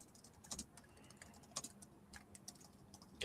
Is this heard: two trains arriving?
no